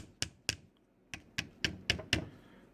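A heavy-duty Mtech Ballistic Punisher knife is tapped seven times, giving sharp, close, crisp clicks in an uneven rhythm, each with a brief ringing tail, and no one speaks.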